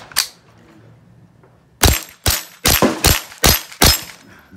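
Pistol shots from a Volquartsen Ruger-based pistol at a Steel Challenge stage, one shot followed after a pause by a rapid string of six sharp, loud reports at close range.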